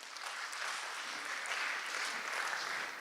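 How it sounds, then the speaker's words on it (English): Audience at a business and economics school conference clapping together, a steady dense wash of applause holding for a few seconds without a break. "1, 2, 3, we clap."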